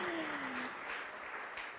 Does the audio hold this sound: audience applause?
yes